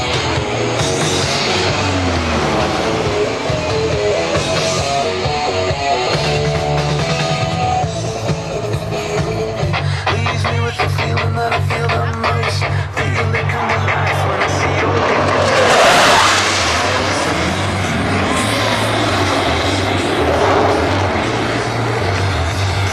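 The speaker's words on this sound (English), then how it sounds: "Behind the spectator area, Blue Angels 5 and 6 are accelerating to 400 miles per hour." Blue Angels jets accelerating behind the spectator area at the 2010 Jones Beach Airshow produce a loud, continuous roar that swells to a peak midway and then eases, with a public-address voice faintly audible beneath.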